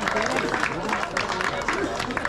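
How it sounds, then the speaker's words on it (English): Applause for performers on stage at a Basque club picnic in San Francisco, a dense crowd clapping continuously at close range with chatter mixed in. "big round of applause for them"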